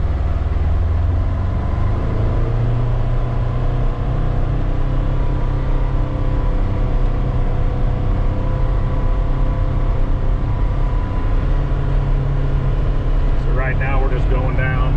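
Low steady road rumble inside a 2024 Ford Expedition with added sound deadening material, rolling slowly down a driveway at about 12-13 mph; a constant drone continues throughout, with a faint clicking near the end and no talk.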